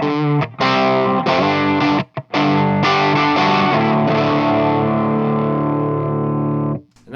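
Electric guitar on the bridge pickup runs through a Kruz Pedals dub distortion pedal: thick, buzzy sustained chords ring out, broken by two brief gaps, then one long held chord that fades at the end. Loud and close, with no talking.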